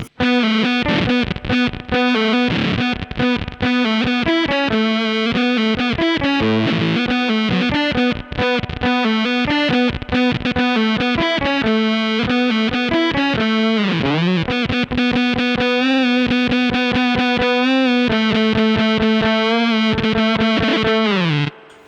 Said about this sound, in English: it's a synth effect, right? So I'm just going to play a synthy riff